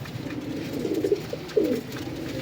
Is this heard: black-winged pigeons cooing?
yes